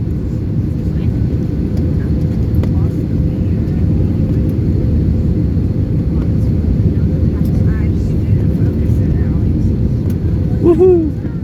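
Steady, loud low rumble of Airbus A321 cabin noise during the approach to landing at Phoenix Sky Harbor, a continuous engine and airflow drone with faint voices briefly rising near the end.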